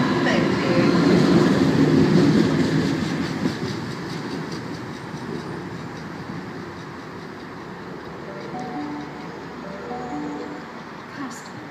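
A Sydney train passing through Pennant Hills station: a loud rumble and rattle of carriages that fades to a steady clatter, with a station announcement over it.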